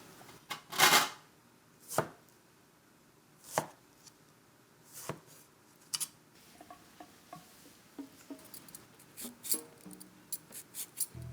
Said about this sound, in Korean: 소스에 들어간 고수를 좋아하니까 잘게 썰어서 넣도록 하고요